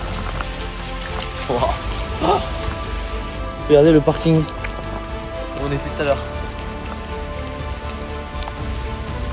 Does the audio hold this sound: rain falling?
yes